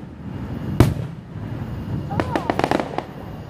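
Fireworks go off outdoors: one sharp loud bang early, then a quick cluster of crackling pops and bursts, with background crowd noise and a faint whistle.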